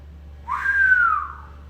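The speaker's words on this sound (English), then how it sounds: "That's the whistle." One short whistle rises quickly and then glides slightly downward in pitch before fading. It is clear and fairly close against a quiet background, with no talking.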